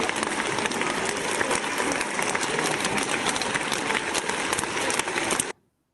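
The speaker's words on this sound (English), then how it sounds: "let's give a round of applause to Anna for her presentation, for her talk." Audience applause follows a talk at a teaching presentation, a dense, steady wash of many hands clapping that continues loudly for over five seconds and then cuts off abruptly.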